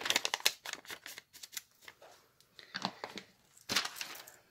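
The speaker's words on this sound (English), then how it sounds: "I also like the sound, the crackling sound of the paper." See-through paper crackling as it is handled while making a junk journal page, close and quiet, in irregular bursts of crisp rustles and crinkles with brief pauses between.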